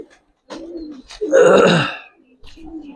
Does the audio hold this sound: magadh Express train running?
no